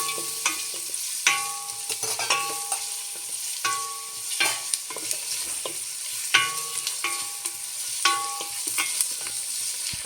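Chopped capsicum sautéing in a pan for chicken mandi gravy, a steady bright sizzle broken by repeated clinks and scrapes of a spoon stirring against the pan, close up and with no talking.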